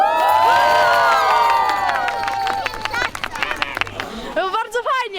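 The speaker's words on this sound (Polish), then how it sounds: "Super i wszyscy gromkie brawa." An audience at an animation course event cheers and shouts, with some clapping in a loud crowd roar that thins into scattered voices and talk.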